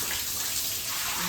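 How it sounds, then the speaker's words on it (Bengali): Water splashes and pours steadily while a cow is being scrubbed and bathed, a close, continuous wash of water with no clear pauses. "মা এখানে ওকে ভালোই ঘষে ঘষে স্নান করাচ্ছে"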